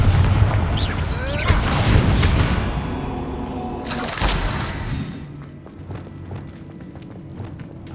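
Confringo fire spells fired in the Hogwarts Legacy video game burst in a rapid series of loud blasts with crashing, shattering debris, then give way to a lower, rumbling tail.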